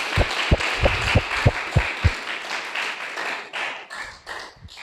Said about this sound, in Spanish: Dale palmas fuertes al Señor Jesús.